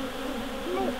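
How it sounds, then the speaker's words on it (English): Bees buzz around wild bee hives in a yard, a close steady drone with individual insects swelling briefly as they pass near. "A bloody yard full of bees."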